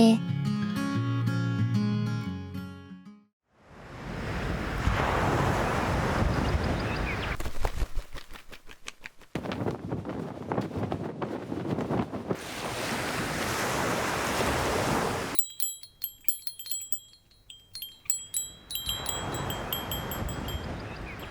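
Surf washing in at the seaside in long broad rushes, loud and close, with wind noise over the microphone; some musical tones open the stretch and a brief quiet gap separates the swells.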